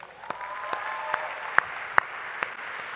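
Light applause from the audience at the Sharjah Entrepreneurship Festival 2019, with a handful of sharp, separate claps rising over a soft bed of quieter clapping in an irregular rhythm.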